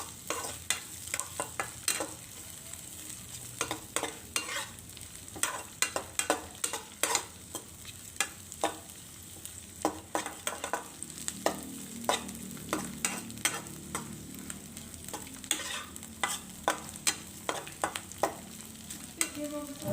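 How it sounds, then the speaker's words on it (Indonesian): Sausage slices and onion are stir-fried in a pan over a continuous sizzle. A spatula scrapes and taps the pan again and again in a busy, close rhythm throughout. "Kembali lagi dilanjut ditumis ya supaya sosisnya ini juga matang."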